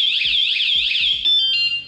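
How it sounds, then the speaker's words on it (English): An anti-theft alarm installed on an electric scooter goes off loudly and close by, a piercing, rapidly warbling electronic siren that switches partway through to a different, steadier tone pattern. "And if they keep messing with it, it'll eventually set the alarm off."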